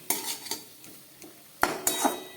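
Vegetables and boiled potatoes with spices being stirred in a pan, with sharp scattered clinks of a utensil against the metal between quieter scraping stirs and a faint frying sizzle underneath.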